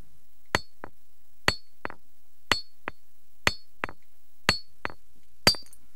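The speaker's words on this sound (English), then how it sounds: "Here the knapper is using a basalt hammer weighing about one kilogram." Sharp stone-on-stone knocks from a roughly one-kilogram basalt hammer knapping stone flakes come in pairs, a loud crack followed by a lighter tap, repeating about once a second in an otherwise quiet setting.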